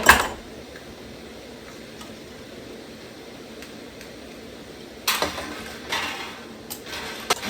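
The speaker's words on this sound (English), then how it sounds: "Now I'm going to go ahead and put my lids in here." Metal canning jar lids drop into a pot, a sharp clink at the start, then a quiet steady hiss before a cluster of clattering metal knocks and taps near the end.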